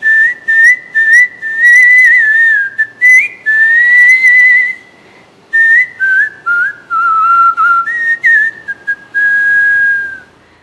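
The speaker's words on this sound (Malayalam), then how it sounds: "ഒരു കണ്ടിന്യൂസ് ഒരു വിസിലിംഗ് ചെയ്ത് തന്നെ ഇത്ര മണിക്കൂർ ചെയ്യാൻ വേണ്ടിയിട്ടുള്ള ഒരു ആഗ്രഹമുണ്ട്" Continuous human whistling plays alone and close, a loud melodic tune in phrases broken by short breaths, gliding between sustained high notes over roughly ten seconds.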